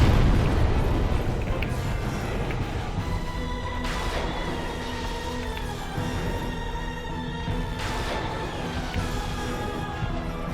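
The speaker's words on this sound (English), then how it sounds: "the only thing that's getting me is like the explosion spell it summons in front of its belly" Demon Firesage's explosion spell in Dark Souls Remastered, a dense roaring fiery burst with rumbling booms and crackling swells that flare around four and eight seconds, continuous and loud throughout.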